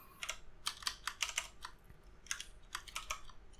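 Code is typed on a computer keyboard in short, quiet bursts of crisp key clicks with brief pauses between groups, close and alone without talking.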